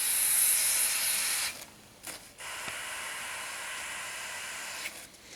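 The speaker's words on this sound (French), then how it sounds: "c'est directement du gaz, c'est la détente du gaz qui fait que ça refroidit" A can of freezing nitrogen gas sprayed onto a wasp nest: a loud, close hiss that cuts off abruptly, then a softer, steady hiss that continues to the end.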